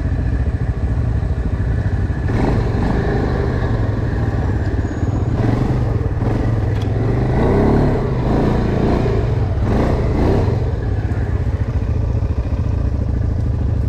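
A CF Moto quad ATV engine revs throughout a descent on narrow off-road terrain, a constant loud rumble with surging throttle bursts and occasional clatter, no talk.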